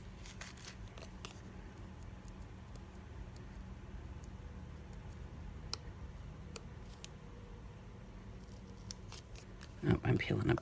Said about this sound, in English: I'm peeling up the tape